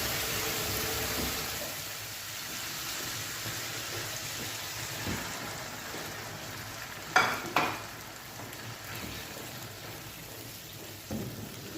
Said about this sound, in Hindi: तो ये मैंने मगज़ अच्छी तरह से वॉश करके इसमें डाल दिया है और इसको बहुत आराम से मिक्स करेंगे